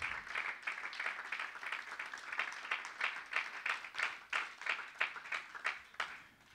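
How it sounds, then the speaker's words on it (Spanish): A church congregation at a prayer and miracles service claps rhythmically together, a steady run of even, moderately loud claps continuing without talk. "dale palmas al Señor"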